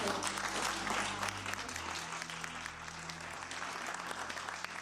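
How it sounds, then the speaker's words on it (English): An audience at a university applauds at the end of a play, a broad, sustained wash of clapping from many hands with a low steady hum beneath it. "Can you please clap hands?"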